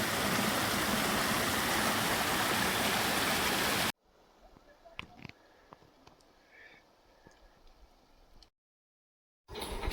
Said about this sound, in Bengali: ছোট্ট ঝর্ণা নেমে এসেছে আমাদের চলার পথে।